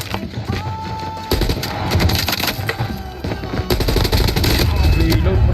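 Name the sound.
gunfire in the video game Call of Duty Mobile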